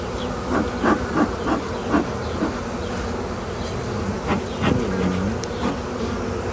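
Bees buzzing steadily around a hive that has no feeder yet. The drone is close and continuous, with faint clicks and brief tonal hums over it, and no talking.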